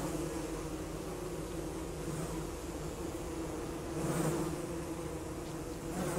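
Bees buzz steadily in Don't Starve Together, a dense continuous drone close by that swells briefly partway through, with no talking.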